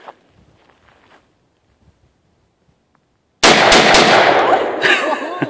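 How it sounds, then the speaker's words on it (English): An AR-15 rifle fires a quick three-round burst outdoors: sharp, loud reports in rapid succession after a near-silent pause, followed by a ringing echo and soft rustling. "A 3-round burst."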